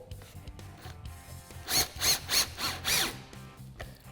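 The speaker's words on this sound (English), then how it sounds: "That way, I can be sure that it's going to hold while driving in the rest of the screws." A driver sets screws into a wooden door panel in a workshop, giving several short whirring bursts in quick succession after quieter handling noise.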